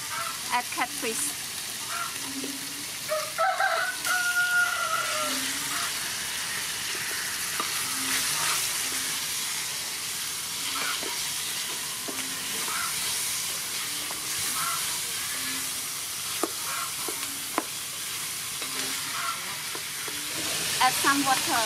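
Catfish frying in hot soybean oil in a pan, a steady sizzling hiss with intermittent scraping stirs and occasional pops, close and continuous.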